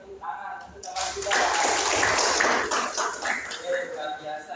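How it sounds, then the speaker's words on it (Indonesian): Students in a classroom applaud a classmate with a burst of clapping that swells and then tapers off, while people talk over it. "kita kasih tepuk tangan untuk teman kita"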